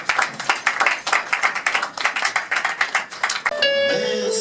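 A church congregation claps together in a steady, lively rhythm, the beating hands close and loud, before the applause gives way to a sustained keyboard chord at the end.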